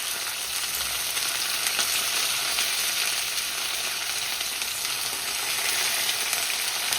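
Sliced onions and fennel seeds fry in hot oil in a pan, a steady close sizzle that crackles on without pause and with no talk over it.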